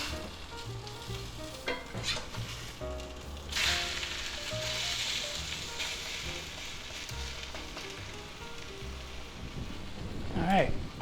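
A grilled egg, ham and cheese sandwich with onions, green onions and spinach sizzles loudly and steadily in a pan, with a couple of utensil clatters and a person talking over the frying.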